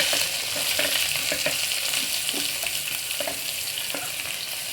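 Chopped onions frying in hot oil in a pressure cooker for mutton kurma, a steady close sizzle with soft stirring clicks throughout, no voices.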